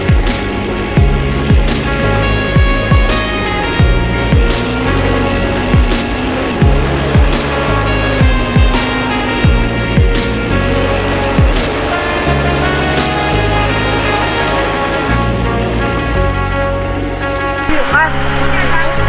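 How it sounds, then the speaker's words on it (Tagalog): Motorcycle engine pushing through deep floodwater after a typhoon in Lipa City, Batangas, a steady mid-pitched drone with rhythmic revving pulses throughout, while people talk over it. "sobrang lalim na ng tubig, pinilit na lang na mayahon yung motor"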